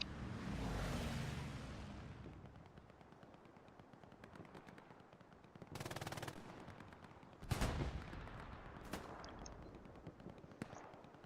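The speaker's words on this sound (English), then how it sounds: "Gets bombing run dropped on it by 101A." Bombing run in the console game Hell Let Loose during a competitive match: a long rumbling blast swell at the start, then scattered sharp cracks and bursts of gunfire, with heavier impacts near the middle, all at a moderate distance.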